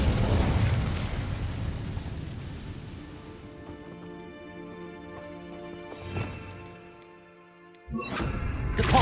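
The Incendio fire spell cast in Hogwarts Legacy, a loud fiery burst that roars and decays over several seconds, followed by a couple of sharper pops and a final rush of flame.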